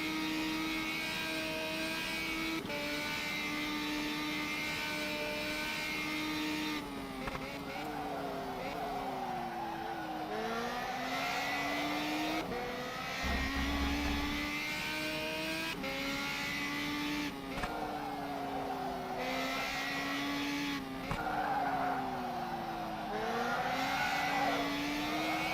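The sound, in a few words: race car engines and tire squeal in rFactor 2 video game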